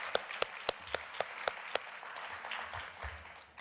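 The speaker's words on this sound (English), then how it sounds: "A round of applause." An audience applauds a winning team, with several sharp, evenly spaced claps up front and then a softer, more diffuse round of clapping that fades out.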